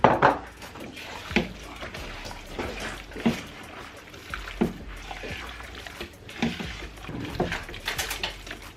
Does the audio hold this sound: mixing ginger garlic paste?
yes